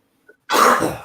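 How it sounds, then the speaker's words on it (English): A single sharp cough bursts out close by after a brief silence, rough and throaty. "That was a cough."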